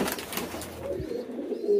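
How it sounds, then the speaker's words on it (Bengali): Pigeons in a loft give low, rolling coos close by, a soft continuous murmur of several birds with faint rustling. "এদিকে দেখেন সকল কবুতর এদিকে, মাশাআল্লাহ।"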